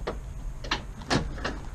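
The rear barn doors of a Peanut Gen 2 expedition trailer swing open, giving a few brief latch clicks and clunks spaced out against a low, steady background hum.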